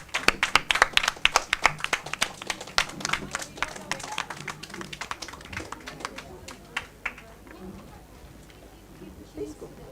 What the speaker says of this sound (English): Let's have a huge round of applause, everyone, please.